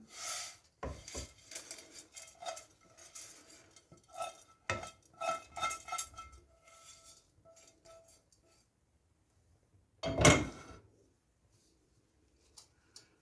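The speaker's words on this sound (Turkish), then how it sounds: "Kalan pirinci döküyorum" Rice being poured and handled in a pot while layering a maqluba, a series of clattering scrapes and knocks of utensils against cookware in short clustered bursts, with one sharp loud clang near the end and quiet pauses between.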